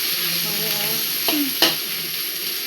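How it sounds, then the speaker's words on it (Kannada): Dill greens frying in a pan: a continuous close sizzle with a couple of sharp stirring scrapes of the utensil against the pan partway through, no talk. "ಸೊಪ್ಪು ಎಷ್ಟೊತ್ತು ಫ್ರೈ ಮಾಡಬೇಕು?"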